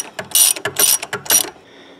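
A hand ratchet turns to unscrew a part near a clogged filter, giving three quick, close bursts of dense metallic clicking with short pauses between them, then fading to near silence.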